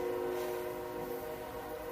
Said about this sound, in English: I said wait for the train to come.